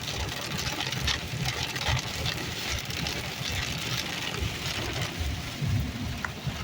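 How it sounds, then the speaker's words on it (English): Rain drumming on a car as it drives through rain clouds, a steady dense patter with a low road rumble underneath, continuous and fairly loud throughout. "I'll give you a minute to relax to the raindrops."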